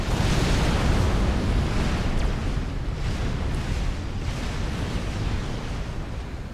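A deep, continuous rumbling explosion from a Supreme Commander Forged Alliance battle between Tsar and Titan units, a broad roaring wash that stays loud and steady before slowly fading, with no voices.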